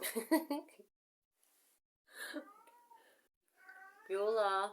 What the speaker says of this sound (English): so sorry about my cat, just having a good old chat there.